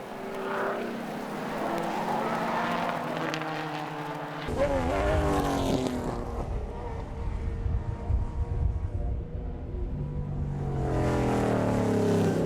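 A big, heavy drum-braked car races around the Carco racetrack during a sporting car club race round, its engine revving and roaring as it passes near, with a commentator talking over it.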